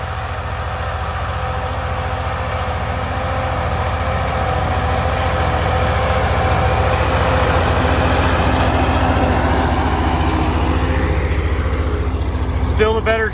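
A small, cheap old tractor engine pulling a little disc harrow runs close by with a steady throbbing chug that holds a constant drone throughout, with a brief rattle near the end.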